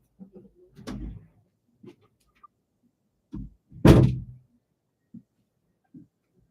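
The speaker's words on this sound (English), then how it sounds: "Let me shut the door." A door is shut indoors with a couple of soft handling thuds followed by one louder closing thump, then small knocks, in a quiet room.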